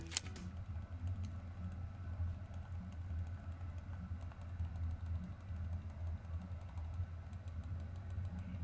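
Silent-click buttons on a NUBWO wireless mouse tapped repeatedly, producing very faint, soft clicks that sit just above a low steady background hum in a quiet room.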